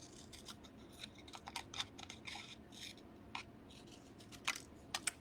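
Scissors snip repeatedly through paper, a rapid run of crisp cuts close by, uneven in rhythm with brief pauses.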